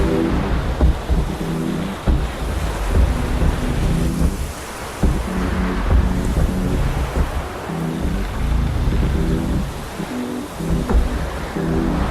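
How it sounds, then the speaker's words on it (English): Wind rushing steadily past a sailing boat heading out through the Lions Gate, a loud continuous roar with gusts and water wash underneath, no talking. "Looks like we're getting a little bit of a breeze."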